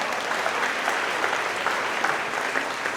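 A crowd at a company celebration claps to welcome new staff. The applause is dense and steady throughout, with scattered cheers, and the room sounds lively.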